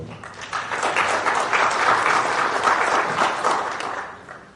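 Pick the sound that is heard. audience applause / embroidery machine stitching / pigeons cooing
audience applause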